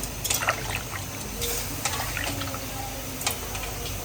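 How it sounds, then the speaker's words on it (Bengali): Water poured into a cooking pot of chopped bottle gourd, a light trickling and splashing with a few sharp drips and clinks, close and steady. "লাউ গুলো আমি একটু হালকা পানির সাথে দিচ্ছি যাতে পরবর্তীতে আমার আর পানি না দিতে হয়"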